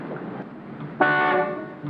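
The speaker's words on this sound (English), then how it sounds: "Will you stop honking, Mac?" A car horn gives a single loud, sustained honk of about half a second, rising abruptly over a quiet background hum.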